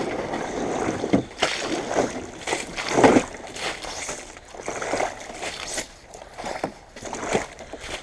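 Hand scooping cold water out of a 1986 Trans Am that has sat for two months: repeated close sloshing and splashing with gusty rustle, steady and unbroken, no voices.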